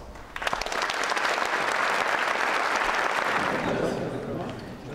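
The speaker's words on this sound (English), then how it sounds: "Please join me in welcoming them to the stage with a round of applause" An inauguration audience gives a round of applause welcoming lion dance performers to the stage, a broad, sustained wash of crowd clapping that swells early and fades slightly toward the end, with some voices mixed in.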